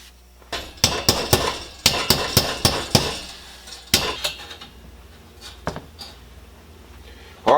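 An old copper hammer strikes metal in a home forge workshop, a close run of sharp, ringing blows in quick bursts, then a few scattered taps after a short lull.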